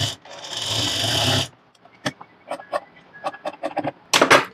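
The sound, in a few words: sewing machine stitching blouse shoulder seam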